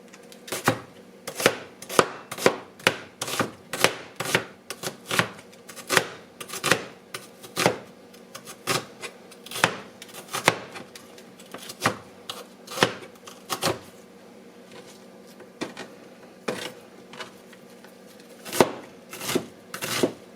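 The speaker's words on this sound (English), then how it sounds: "Got to get the onion all chopped up here." Knife chopping an onion on a cutting board for chili, a steady run of sharp, close taps in quick bursts with short pauses, no talking.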